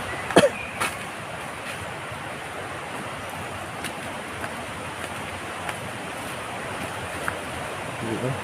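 Strong current rushes at Taal Falls, a steady broad roar of flowing water heard up close, with a brief knock near the start and faint scattered clicks.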